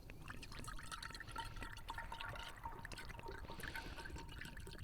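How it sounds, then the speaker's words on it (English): Homemade root beer poured into 16-ounce bottles, a quiet continuous trickle and gurgle of liquid filling glass, faint and close, with a small clink at the end. "now we'll go ahead and fill up these bottles"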